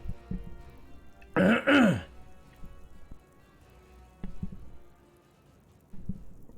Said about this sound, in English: I thought I muted and coughed, but I didn't mute.